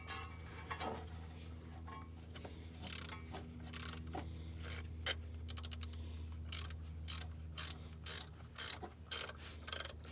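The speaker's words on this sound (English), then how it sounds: "Basically, you just come in here and start wrenching on this piece." A wrench working on a power steering pump part of a 1975 GMC, giving bursts of quick ratcheting clicks that grow more frequent toward the end, close by and moderately loud over a low background hum.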